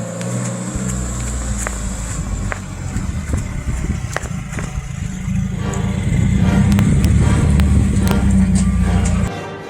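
A vehicle pulls up with an engine rumble that grows louder and closer, rattling and clattering over a steady drone, then cuts off abruptly at the end.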